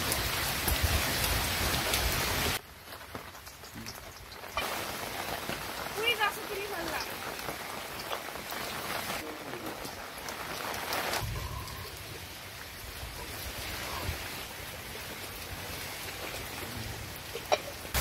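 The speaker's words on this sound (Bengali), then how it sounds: "রান্না করতে করতে আমাদের এখানে আজকে বৃষ্টি চলে এসেছে।" Steady rain falls outdoors over a village cooking spot, a dense hiss with scattered drops on surfaces that continues throughout, briefly dipping quieter, with faint voices underneath.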